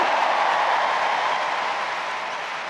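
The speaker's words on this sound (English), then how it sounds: "Another huge cheer" A huge crowd cheers at a Women's Super League football match between Arsenal and Tottenham Hotspur at the Emirates stadium, a broad, continuous roar that stays loud and even, then eases slightly toward the end.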